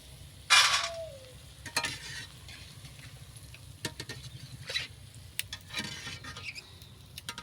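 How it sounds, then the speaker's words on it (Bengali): Burinda fritters deep frying in hot oil give a steady crackling sizzle, with a sharp burst of bubbling near the start and scattered pops and scraping stirs throughout, close by and with no talking. "এরকম সব বুরিন্দাগুলি ভেজে নেব।"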